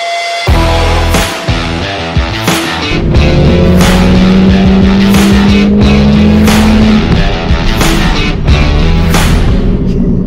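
A Mercedes-AMG E63 S runs loud and close as a deep, steady engine roar with rising tonal whine, punctuated by sharp repeated bangs or revs throughout.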